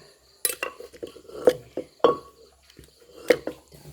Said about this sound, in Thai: ตอนนี้ตักพริกก่อนนะคะ